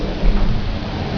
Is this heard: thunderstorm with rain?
yes